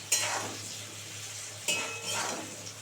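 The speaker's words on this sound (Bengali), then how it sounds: "খুব সুন্দর করে এটা আবার ভাজা হবে 2 মিনিট ধরে" Mixed colourful vegetables fry in a pan for a quick mixed-veg dish, with a steady sizzle broken by two distinct bursts of scraping as a utensil stirs them against the metal, close up and with no talk.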